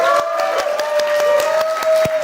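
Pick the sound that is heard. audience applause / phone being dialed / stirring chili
audience applause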